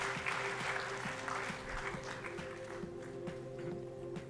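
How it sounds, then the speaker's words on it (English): A crowd applauds steadily, dense clapping filling the space, with a low rhythmic thump underneath. "Give a round of applause to those kids"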